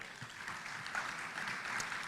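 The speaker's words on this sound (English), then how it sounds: "Let's put another round of applause for" Audience applause at a business forum in a conference hall in Nairobi, a moderate, steady patter of many hands heard from a distance for a couple of seconds, without speech.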